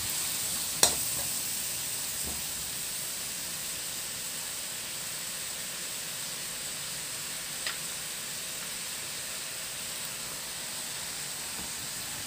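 Pata estofado marinade sauce heating to a boil in a pot, giving a steady, even sizzling hiss throughout, with a brief clink near the start and another faint knock later, and no voices.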